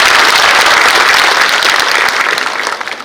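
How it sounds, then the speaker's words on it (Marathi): An audience at a Republic Day gathering applauds loudly and steadily, a dense wash of clapping that starts to thin out toward the end. "आपल्या सर्वांकडनं टाळ्या वाजवून आपण त्यांचा सन्मान करावा"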